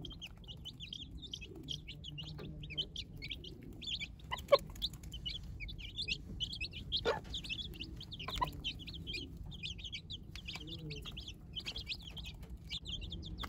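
Newly hatched chicks cheep in quick, high, continuous peeps under a hen, close and steady, with soft low clucks and faint rustling beneath.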